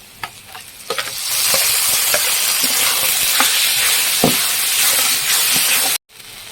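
Spice paste of poppy seed, garlic, green chilli, ginger and tomato frying in oil, a loud steady sizzle and hiss with scattered spoon scrapes through it, cutting off abruptly before a quieter tail.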